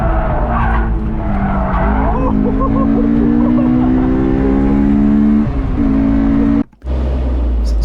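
A Honda S2000 on a race track skids with long sustained tire squeals and a droning engine, a sliding pitch wavering over several seconds before a brief cutout and resumption, loud and close.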